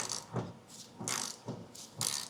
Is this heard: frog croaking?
no